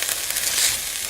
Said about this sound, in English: Sizzling goodness.